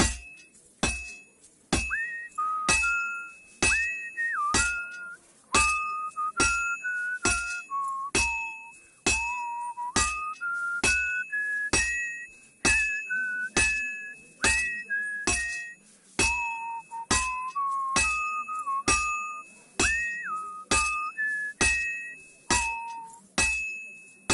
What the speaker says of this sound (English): Whenever you hear the whistling, that means you are doing it as intended.